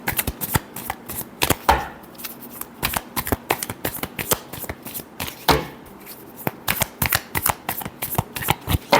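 Tarot cards being shuffled by hand in a long run of crisp, rapid riffling flicks, with two denser bursts partway through, close and alone with no talk.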